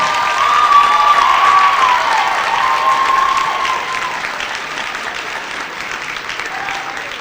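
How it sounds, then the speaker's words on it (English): Students at a high school merit assembly give the class of 2019 valedictorian loud, sustained applause with some cheering, a dense wash of clapping that stays strong throughout and eases slightly toward the end. "Students, a big round of applause for Sarah Parks."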